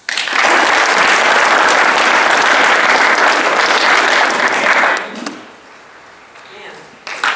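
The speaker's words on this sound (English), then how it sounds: "Peg deserves a round of applause." An audience at a business meeting bursts into applause, dense clapping that holds for about five seconds and then fades out, followed by a speaker beginning to talk.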